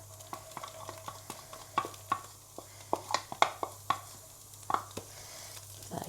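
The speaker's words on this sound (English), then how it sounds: "And then I'm going to add my red onions that are all diced up." Diced red onions stirred in a pot for beef bourguignon: irregular soft taps and scrapes of a spoon against the pot over a faint, steady sizzle, close and quiet, with no talking.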